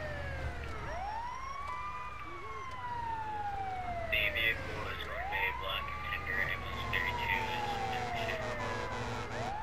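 An ambulance siren in Grand Theft Auto V wails in two long rising-and-falling sweeps over a low engine rumble, with a denser, brighter layer of noise joining partway through.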